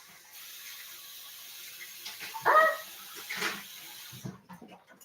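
Tap water runs into a container for a few seconds as a steady close hiss, and a brief sharp yelp-like sound cuts through partway before the flow stops abruptly.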